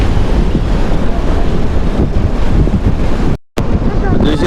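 Water churns and surges heavily at the Nagarjuna Sagar dam in a loud, continuous roar, buffeted by strong wind noise on the microphone, with one brief dropout near the end.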